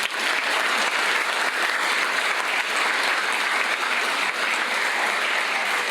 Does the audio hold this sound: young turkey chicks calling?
no